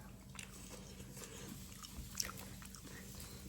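A snack bitten with a crisp crunch, a few close, brief crackly bites over a faint steady hum, with no talk.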